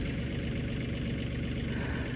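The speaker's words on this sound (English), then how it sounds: "got the tractor started" A farm tractor engine running steadily at idle, a close, constant low-pitched rumble with an even mechanical throb and no voices.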